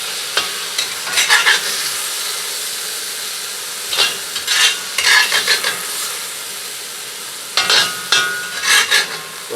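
Meat stir-fries Korean BBQ style in a cast iron wok on a wood cookstove, a steady sizzling hiss broken by three clusters of loud scraping stir strokes, close up with no talking.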